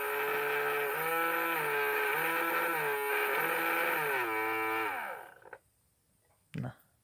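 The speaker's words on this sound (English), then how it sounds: "if I spin my VEX using a screwdriver, I can control the speed" A small VEX robotics motor spun by hand with a screwdriver gives a steady whirring whine whose pitch rises and falls as the speed changes, close and fairly loud, then cuts off, leaving a brief knock.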